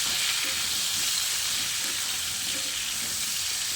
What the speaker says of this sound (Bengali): সব সময় আলুর দমের আলুটা একটু লালচে করে ভেজে নেওয়ার চেষ্টা করবেন।